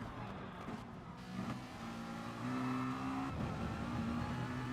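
A Ferrari race car in a GT touring car racing game roars at high speed, its engine note droning steadily and rising in pitch partway through, with other cars audible around it in a close midfield pack.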